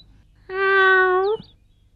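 A small kitten gives a single clear, drawn-out meow of nearly a second, close and loud against a quiet background.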